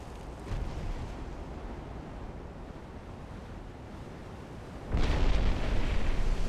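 Naval gunfire shells landing around warships at sea in the video game Ultimate Admiral: Dreadnoughts: a rumbling roar like surf, then a sudden heavy blast that swells and lingers, with no talking.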